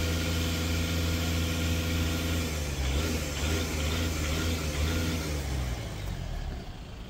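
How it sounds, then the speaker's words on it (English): A Skoda Octavia with high idle and DPF trouble has its revs held up, giving a steady, close mid-pitched engine drone that dips slightly partway through and then settles, with no talking over it. "now I'm just going to hold the revs up and get some of that cleared out."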